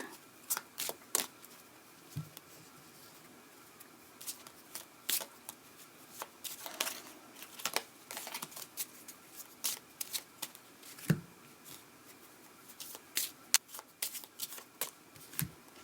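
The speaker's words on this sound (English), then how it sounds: "I'll go ahead and pull 3 cards for the month of September." Tarot cards are shuffled and drawn by hand in a quiet room, giving a steady run of soft riffling and flicking with sharper card snaps scattered throughout.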